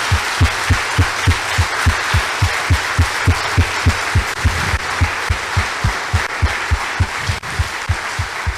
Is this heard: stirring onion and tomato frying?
no